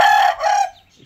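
A rooster kept in a backyard hen-and-rooster setup crows once, loud and close, the call breaking briefly before trailing off into quiet.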